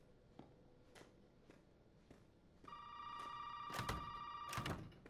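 A telephone rings inside the Resident Evil 7 game, with scattered dull thunks and footsteps before two loud bright bursts of ringing near the end, fairly close and without talk.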